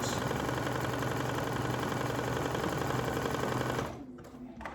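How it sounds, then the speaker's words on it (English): A Brother Essence VM5200 sewing machine runs with a steady loud whirring hum while sewing, close up, then stops abruptly near the end, leaving a quiet room. "I'm going to put this foot down. I'm going to do that, and it's going to do 1 stitch."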